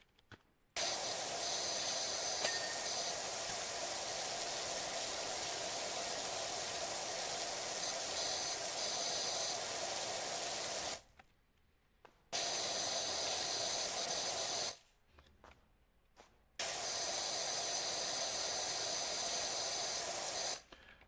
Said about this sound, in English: You can spray it on an area you're not sure about and